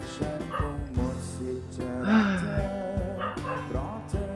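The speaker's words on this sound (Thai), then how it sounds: "ขอภายในเสียงหมาเห่าด้วยนะครับผม" Dog barks and yips come in several irregular bursts over a busy background of game sounds and faint voices, the barking loud and nearby.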